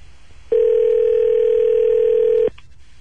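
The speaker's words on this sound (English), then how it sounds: "Just call this number till they answer." A single steady telephone ring tone sounds for about two seconds over quiet room noise, loud and clear, with no voices.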